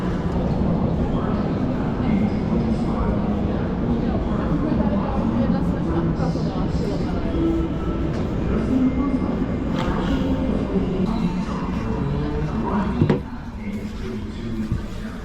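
A yellow passenger train rumbles steadily on the rails at close range, a continuous low clatter and roar with a brief clunk near the end.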